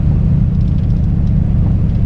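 A 1984 TVR Wild Wedge with a 4.0 V8 drives on a wet winter road, its engine holding a steady, close, low rumble with no pauses or voices.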